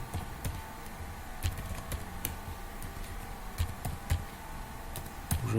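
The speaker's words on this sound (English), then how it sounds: "Sorry about my typing, I know that I'm slow." Quiet, irregular clicking of computer keys, bursts of typing with short pauses, fairly faint against a low background hum.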